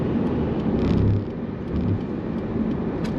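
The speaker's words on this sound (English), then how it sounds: "The interior is super quiet on the highway." Inside a 2004 Honda Accord LX with 221k miles cruising on the highway, a steady low road and engine drone fills the cabin, muted and even with slight swells.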